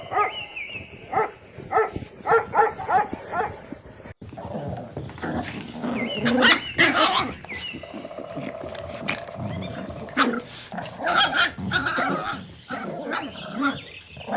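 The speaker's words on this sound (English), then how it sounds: "Puppy." A puppy barks in a run of short, high yaps with whining cries mixed in, loud and close, the calls coming in bursts over roughly fourteen seconds.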